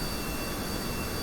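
An amphibious plane's engine in Kerbal Space Program drones steadily as a continuous, even jet-like whine and rumble, held at moderate volume with no voices over it.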